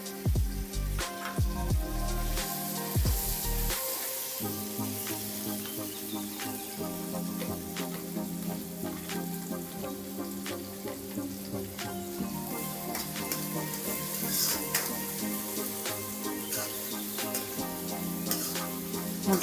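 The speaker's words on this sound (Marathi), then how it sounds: "कांदा आणि शिमला मिरची एकच वेळेस घालायची आणि छान शिजू द्यायची त्याला." Chopped onion and capsicum sizzle and fry in a pan on high heat for pav bhaji, a steady crackling hiss with occasional stirring scrapes, continuous and fairly quiet with no talking.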